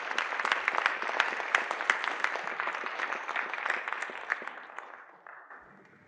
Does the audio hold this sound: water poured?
no